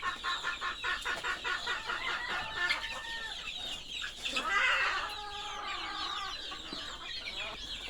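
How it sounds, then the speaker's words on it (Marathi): Home-raised pure desi village chicken chicks in a flock, giving a close, continuous run of overlapping high chirps and clucks that swell briefly midway, with no talking. "हे आहे आमचे प्युअर गावरान कोंबडीचे पिल्ले"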